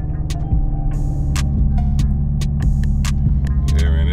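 A new Chevrolet Camaro idles steadily after push-button start, a deep throbbing engine hum filling the cabin, with faint clicks and small interior noises over it and no speech.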